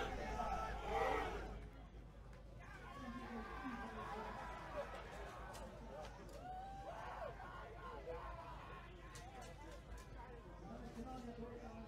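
Spectators at a Battle of the Nations 2018 medieval combat tournament, 5 vs. 5 men, Germany against Canada, raise a steady crowd roar under continuous commentary.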